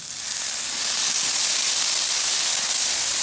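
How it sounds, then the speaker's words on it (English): Water steaming and hissing on a hot flat-top griddle around Brussels sprouts, a steady, loud broadband hiss that holds for the whole stretch with no talk over it. "as that steam comes up through there, it helps make it tender"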